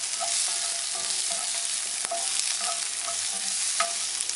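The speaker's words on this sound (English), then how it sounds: "We're just going to sear them here right now real quick" Small slices of ripe tomato searing in a hot pan, a loud, dense, continuous sizzle close up with faint scrapes of stirring and a single sharp tap midway, no voices.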